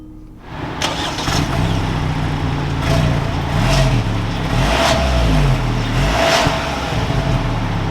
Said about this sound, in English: And now once inside with my foot on the brake, it's time to start it up.